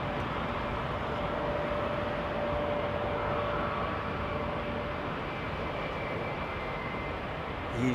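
A Boeing 787 Dreamliner taking off at London Heathrow, a broad steady roar of jet engines holding through its long takeoff run, sustained and moderately distant with no voices.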